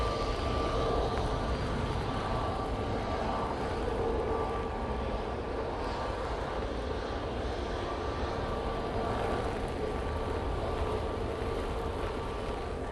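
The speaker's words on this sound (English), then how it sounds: "EasyJet A321neo now coming on right in front of me." EasyJet Airbus A321neo jet airliner arriving at Manchester Airport in windy weather, a steady distant engine roar mixed with heavy wind buffeting throughout, no talking.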